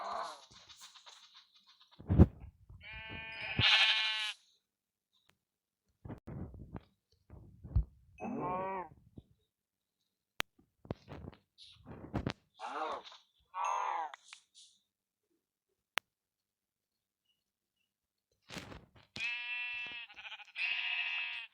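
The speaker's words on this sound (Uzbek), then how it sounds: "mana bu yerdagi qo'ylardan hozir biz go'sht olamiz." Sheep in the Minecraft video game bleat in several short, clear calls spread across the stretch, separated by quiet gaps and punctuated by sharp game clicks and thuds.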